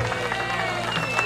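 A studio audience at a TV game show applauds with some shouting, a dense, steady wash of clapping and voices lasting just over a second.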